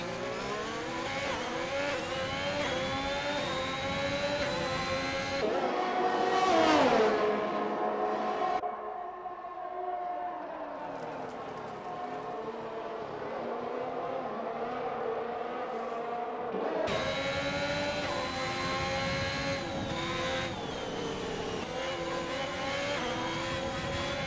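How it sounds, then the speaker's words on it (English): Ferrari race car in a sim racing game at the Austria circuit, its engine screaming loud and steady with rising and falling pitch through gear changes, briefly dropping to a duller drone mid-way before the full roar returns. "That's a Ferrari."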